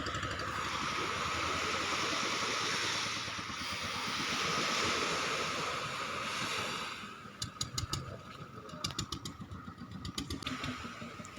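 Waves at a northern sea shore near a ship pier give a steady, close rush of surf, which thins out after several seconds into sharp clicking and clattering bursts, and no one speaks.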